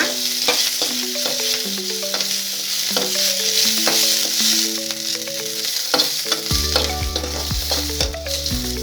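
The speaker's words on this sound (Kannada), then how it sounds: "ಇದ್ರ ಜೊತೆಗೆ ಸ್ವಲ್ಪ ಬೆಳ್ಳುಳ್ಳಿ, ಸ್ವಲ್ಪ ಕರಿಬೇವು, ಇದನ್ನು ಕೂಡ ಚೆನ್ನಾಗಿ ಫ್ರೈ ಮಾಡ್ಕೊಳ್ಳೋಣ" Garlic and curry leaves frying in a pan for green tomato chutney, a continuous sizzle with utensil stirring, while a steady melodic tone plays along throughout; no one speaks.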